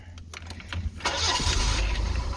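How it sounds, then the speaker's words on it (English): An Austin Ambassador Vanden Plas cranks briefly with a few starter clicks, then catches and settles into a steady, close idle. "Okay, fire her up."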